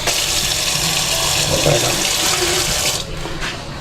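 Water runs steadily from a tap in a building under construction, a loud close hiss that drops in level near the end as the flow eases.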